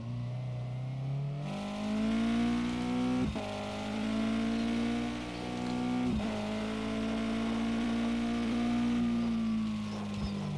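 A dirtbike engine in an in-development video game with new engine sounds, humming steadily and rising and falling in pitch as the throttle changes, with a few sharp shifts and no talking.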